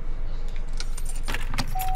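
Car keys jingle in a clear, close rattle as they are taken from a parked car in the video game Watch Dogs, over a low engine-like background drone.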